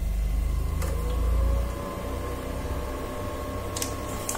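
A PlayStation 2 console powering on while buttons are held, with a low motor whir and hum that settles into a steady drone, plus a couple of faint clicks, close and continuous.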